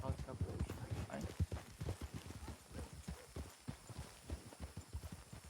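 Wild horses in Red Dead Redemption 2 on the WildRP server, hooves clip-clopping steadily and fairly close in a rapid rhythm, with a voice talking faintly over them.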